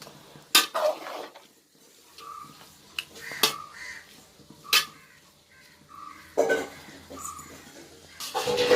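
Rice and gravy for country chicken biryani gently turned in a pot, with a few metallic clanks and scrapes between quieter stretches and crows cawing repeatedly in the background.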